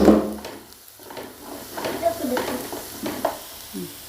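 Cutlet masala mixture fries in a pan and is stirred, with soft scraping strokes and a gentle sizzle building in short bursts at close range.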